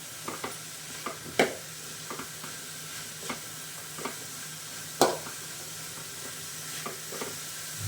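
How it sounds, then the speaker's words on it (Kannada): Bitter gourd being stir-fried in oil in a pan for palya, faint scattered scraping and stirring clatters over a low sizzle, with a few louder knocks from the spoon. "ಈಗ ಆಯಿಲ್ ಸೇರಿಸ್ಕೊತ ಇದ್ದೀನಿ ಆಯಿಲಲ್ಲಿ ಸ್ವಲ್ಪ ಫ್ರೈ ಮಾಡಬೇಕು"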